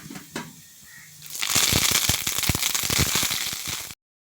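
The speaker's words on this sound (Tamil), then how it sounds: "பட்டை எல்லாம் நல்லா எண்ணெயில் வதங்கட்டுங்க. வதங்கினோன்னே நம்ம அந்த கருவேப்பிலையை சேர்த்துருவோம்." Curry leaves and cinnamon drop into hot oil for chilli chicken gravy, setting off a sudden loud, crackling sizzle with rapid sputtering pops that continues steadily after a quieter start.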